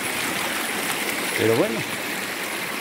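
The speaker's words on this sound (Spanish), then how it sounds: "este es el agüita, agua dulce, lo que tenemos que conservar" A freshwater mountain stream flows with a steady, close rushing wash, while someone speaks briefly over the water partway through.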